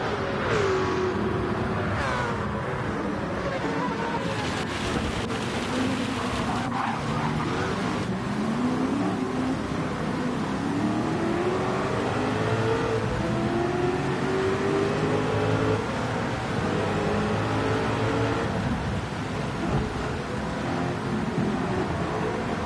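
Mercedes-Benz Sauber C9 race car in Gran Turismo 7 in the rain, its engine revving hard and rising and falling through gear changes, with tyres hissing and skidding on a wet track, loud and continuous throughout.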